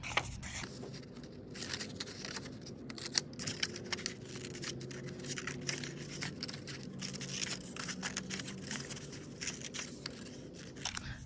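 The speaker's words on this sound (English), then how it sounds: "I'm going really slow and I'm turning the paper as I cut" Scissors slowly cutting paper along curved pencil-marked edges as the sheet is turned, giving close, continuous crisp snips and rasping slices at an unhurried, steady pace.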